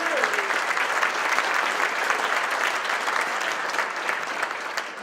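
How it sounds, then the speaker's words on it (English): A crowd at a sports hall of fame induction applauds a high school soccer team for its first sectional title, with steady, even clapping filling the room for several seconds. "How about a big round of applause for the Larkin soccer team, their first sectional ever."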